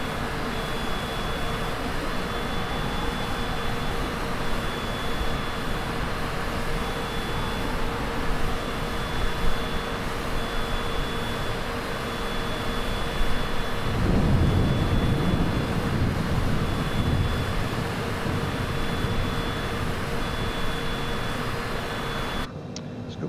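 A Citation CJ4 jet's engines roar in a steady cockpit drone in Microsoft Flight Simulator 2020, with a thin high tone above, a swell of low rumble partway through, then an abrupt cutoff.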